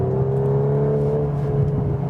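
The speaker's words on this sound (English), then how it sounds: "Wow, exhaust cracking note once again." A VW Golf R engine drones steadily at close range with a revving whir, faint pops riding on the exhaust note.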